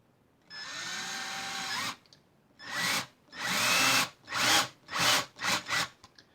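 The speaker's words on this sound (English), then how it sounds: "And I didn't drill them" A power drill bores 7/64-inch screw holes for the bridge in a guitar body: one long continuous whine, then a series of short bursts that come faster and faster, loud and close, with no talking.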